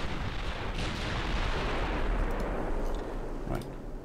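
Heavy naval gunfire from the Japanese battleship Kirishima in the Ultimate Admiral naval game, a dense sustained roar of booming artillery with a sharper report near the end, loud and continuous.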